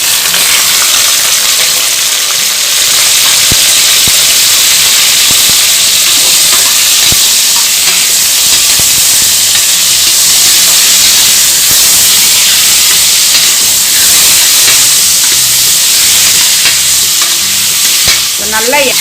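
Country chicken pieces hit a pan of fried onions and sizzle loudly and steadily, with spoon stirring and scraping throughout and no talking.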